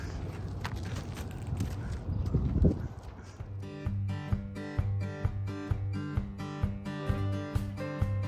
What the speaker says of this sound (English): being mauled by the donkeys